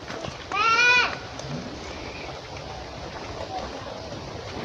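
A goat on a Thai smallholding gives one short, loud bleat with a wavering, vibrato quality near the start, followed by steady farmyard background hiss and faint distant sounds.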